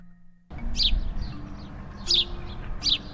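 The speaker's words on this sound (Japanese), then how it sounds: "スズメじゃない？" Three sharp chirps from a Eurasian tree sparrow ring out at uneven intervals, crisp and near, over a low murmuring background that starts abruptly after a brief quiet moment.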